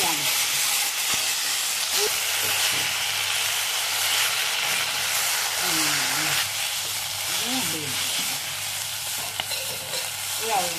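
Thuthuvalai greens, a thorny leafy green, sauté and sizzle steadily in a hot pan for chutney, with a constant frying hiss and occasional stirring scrapes; a voice murmurs briefly over the cooking.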